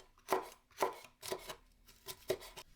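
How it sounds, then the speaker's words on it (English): A knife slicing hot chilies or mini peppers on a cutting board, five crisp, evenly spaced chops in close, quiet surroundings. "slice either 2 hot chilies or 2 mini peppers"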